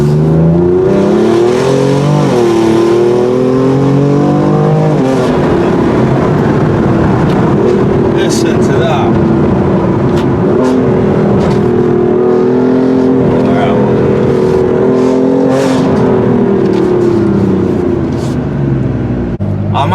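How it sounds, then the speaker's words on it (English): A 565 bhp BMW M4 with a very loud aftermarket exhaust revs and accelerates hard from inside the car, its deep engine roar rising and falling continuously throughout while occupants talk over it. "I'm absolutely just blown away by the noise of this car."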